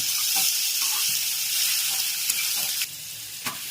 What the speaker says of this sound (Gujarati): જો મસ્ત વઘાર થઈ ગયો છે.